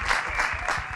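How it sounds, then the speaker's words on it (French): An audience at a festive alcohol-free party event claps for a restaurant in one short, dense burst of applause heard close up. "Est-ce qu'on peut applaudir très fort le restaurant"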